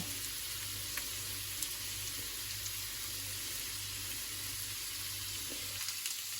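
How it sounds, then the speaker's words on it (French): A single dried bay leaf and dried thyme toast in a hot pan, giving a steady, faint sizzle that runs evenly throughout with a low hum underneath and no talking. "Je vais mettre une seule feuille de laurier et je laisse torréfier tout ça."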